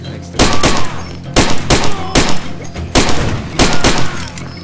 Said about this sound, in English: Oh, jeez, shotgun.